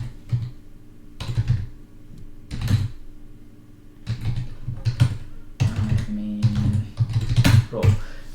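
Keyboard typing in short clustered bursts of key clicks, fairly close and moderately loud, with brief pauses between runs and no voices.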